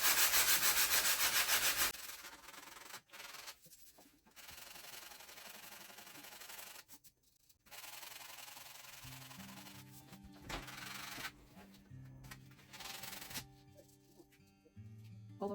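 A wooden Christmas sled is worked over with 220 grit sandpaper, producing close, uneven rubbing strokes: an intense burst first, then softer scratchy passes with short pauses and some knocking of handling.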